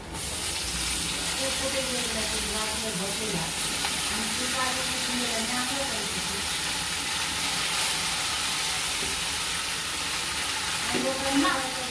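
Onion and fenugreek leaves frying in a pan for a vegetable dish, a steady close sizzle with faint stirring, continuous throughout with no talk.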